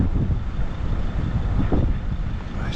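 Strong wind on the Scottish west coast, on the road between Applecross and Gairloch, buffets the microphone beside a motorhome in a continuous low rumbling roar with gusty swells.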